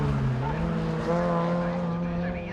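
Swift Sport rallycross cars racing on the loose surface at Croft in the British Rallycross Championship, a steady close engine drone with rising and falling revs and a hint of tyre scrabble, under a commentator's voice.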